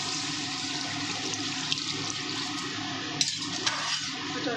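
Water pours steadily into a pan of katla fish curry with mustard and poppy seed paste, a continuous rushing splash running several seconds with a few faint clinks near the end.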